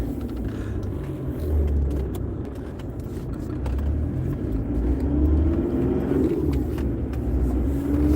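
A car drives along with a steady low rumble and road noise, its engine swelling gently as it accelerates, heard from inside the cabin with no talk.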